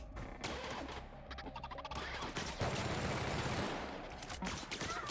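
Pistol shots from The Outer Worlds crack repeatedly through a busy, fairly quiet mix of game sounds, with sharp transients scattered across several seconds.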